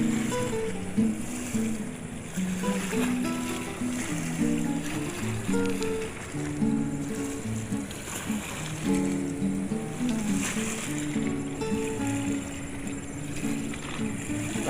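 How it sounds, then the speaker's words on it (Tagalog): Strong river current rushes steadily past Bustos Dam in the days after a typhoon, carrying water lilies, a continuous close roar of churning water without letup. "Lakas ng agos oh."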